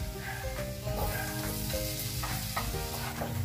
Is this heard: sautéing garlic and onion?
yes